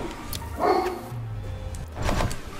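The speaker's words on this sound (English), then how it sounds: "Sorry for my dog in the background." A pet dog barking in a room at home, two short yapping bursts spaced about a second and a half apart, moderately close behind a steady background hum.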